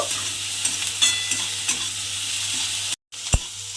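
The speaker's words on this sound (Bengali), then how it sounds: "এবার সমস্ত কিছু আমি তেলের মধ্যে দিয়ে একটু ভাজা ভাজা মতো করে নেব।" Onion, ginger, garlic and tomato fry in hot oil with a steady, close sizzle and faint stirring scrapes, broken by a brief silent gap near the end and a short knock afterward.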